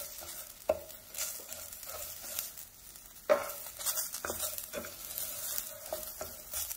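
Onion sautéing in a pan for an enchilada dinner, a soft steady sizzle with light stirring, broken by two sharp clinks of a utensil against the pan.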